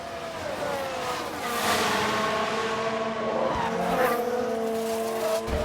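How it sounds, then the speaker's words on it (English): Race cars in F1 Manager 2022 after a big multi-car crash, with loud, close engine whine, tire squeal and skidding that carry on steadily, plus scraping bursts along the way. "We've had a big crash here."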